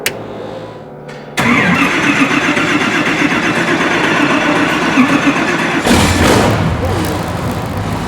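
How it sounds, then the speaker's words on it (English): An aircraft engine fitted in a custom roadster cranks over and catches, jumping from a short whirring start into a loud, rumbling run that swells partway through, close and powerful. "The power this airplane engine cranks out is pretty amazing."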